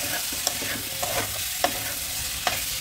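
Masala being stir-fried with fried jackfruit, prawns and coriander leaves: a steady close sizzle broken by sharp scrapes of a spatula against the pan at irregular intervals, with no voices.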